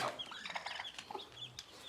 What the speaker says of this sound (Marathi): ही कोंबडी असणार आहे आणि तीस पिल्लं काढले